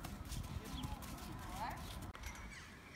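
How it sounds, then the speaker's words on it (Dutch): Pony hooves clip-clopping at a trot on an outdoor riding track, steady rhythmic footfalls heard fairly close beneath background noise and some voices. "Tess moet ook in draf."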